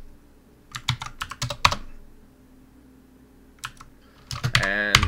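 Typing a Docker command on a computer keyboard: a quick burst of close key clicks, a pause, then another rapid flurry of keystrokes ending in a clustered run, with no talk over it.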